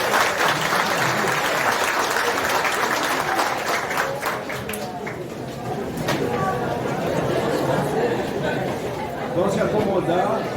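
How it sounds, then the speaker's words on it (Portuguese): Audience applause at a lecture, dense clapping that swells and then eases, with crowd chatter and voices mixed in underneath. "uma salva de palmas aí."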